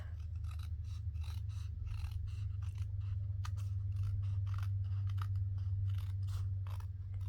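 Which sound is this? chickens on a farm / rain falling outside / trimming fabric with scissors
trimming fabric with scissors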